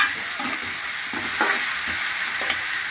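Coriander leaves and chili powder sizzle steadily in a hot pan, a continuous close frying hiss broken by a few soft scrapes of stirring, with no voices.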